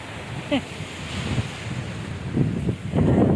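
Gusty wind buffets the microphone over a distant wash of surf, swelling louder toward the end, with a few faint voices underneath.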